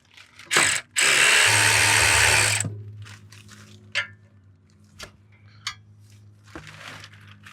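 A ratchet removes bolts from a Pontiac T-37 under a jack stand, with one long fast ratcheting burst followed by scattered short clicks and metallic clinks nearby.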